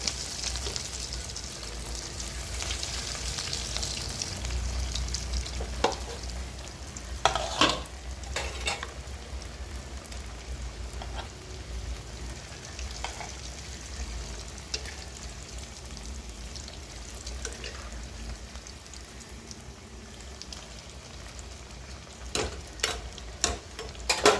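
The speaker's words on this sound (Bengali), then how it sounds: "এবার কাটলেটগুলো ভাজবো একটা একটা করে।" Green banana cutlets fry one by one in a wok, a soft, steady sizzle running throughout, broken by occasional clicks and taps of a utensil against the pan.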